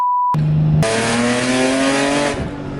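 A tuned BMW E46 with a new intake manifold revs hard as its tires break loose, a loud close engine roar with rising harmonic tones after a brief tone and short gap, fading slightly at the end.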